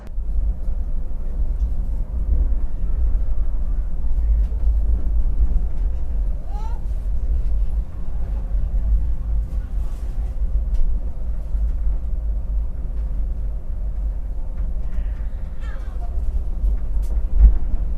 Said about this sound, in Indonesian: ini kereta api Argo Semeru yang saya naiki sudah diberangkatkan dari pemberangkatan awalnya